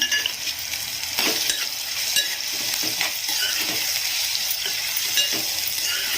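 Sliced onion with turmeric crackles in a pan for egg curry, a loud, close sizzle punctuated by repeated scraping knocks of a spoon stirring against the metal.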